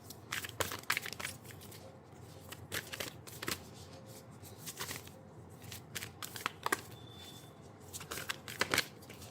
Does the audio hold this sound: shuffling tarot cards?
yes